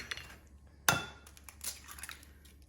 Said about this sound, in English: So crack your eggs